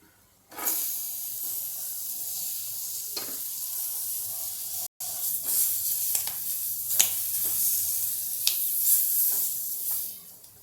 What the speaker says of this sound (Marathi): आता आपण टाकणार आहोत हे टोमॅटो.